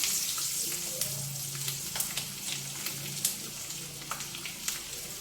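Ridge gourd pieces frying with plenty of garlic, ginger, turmeric and fenugreek powder in hot oil, a soft continuous sizzle with scattered crackles and spatters, fairly quiet and heard alone.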